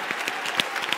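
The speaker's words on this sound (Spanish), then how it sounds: "¡Fuerte aplauso!" A short burst of applause from a crowd, lively scattered clapping with a few sharper claps standing out.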